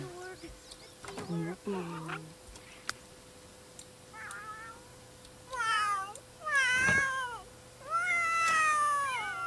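Cats meowing in The Sims 3 life-simulation game, several rising and falling meows in clustered bursts over quiet game ambience, with brief speech early on.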